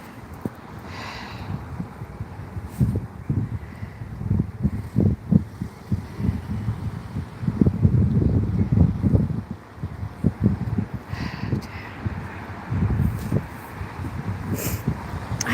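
Cold wind gusting outdoors on a street in Dublin, buffeting the microphone in loud uneven rumbles with rustling between gusts.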